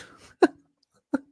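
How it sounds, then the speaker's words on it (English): Two short, abrupt bodily bursts, like burps, are made close into a microphone, spaced about a second apart with silence between them. "And then he burps into the microphone."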